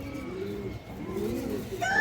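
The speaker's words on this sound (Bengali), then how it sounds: "এই যে দেখেন মাদিটা খুব সুন্দর একটা মাদি কবুতর মাশাআল্লাহ।" A female Giribaj pigeon gives soft, low cooing calls, two rising-and-falling coos close by over quiet room noise, with a faint brighter sound entering at the very end.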